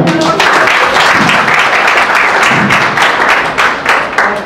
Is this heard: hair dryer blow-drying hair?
no